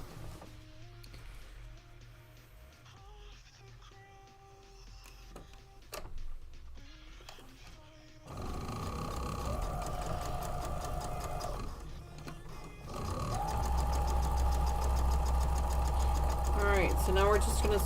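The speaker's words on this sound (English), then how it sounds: "so now we're just going to sew up the pieces real quick." A sewing machine stitches quilt pieces together, starting with a quieter whir, then running in a steady, loud mechanical hum with brief pauses between bursts of stitching.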